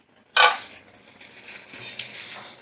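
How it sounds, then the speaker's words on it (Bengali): Metal lid lifted off a cooking pot of Bengali gourd and shrimp curry: a bright clang as it comes free, then lighter clinks and a soft simmer beneath. "ঢাকাটা তুলে নিলাম।"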